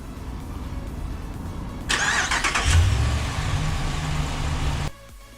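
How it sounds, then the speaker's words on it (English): A 2016 Dodge Ram 1500 pickup remote-starts outdoors: a loud starter crank whirs for about a second, the engine catches with a low rumble, then settles into a steady idle before cutting off. "in order to remote start the vehicle from outside, we press the lock once and the remote start twice, like that"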